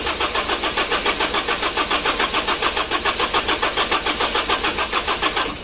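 A Mitsubishi L300 diesel engine from 2017, freshly assembled, cranks over with a steady, fast rhythmic churning that runs loud and unbroken throughout, close by with no talk.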